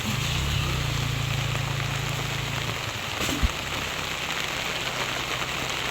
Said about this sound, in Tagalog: Talaga pong walang tigil na dito ang ulan.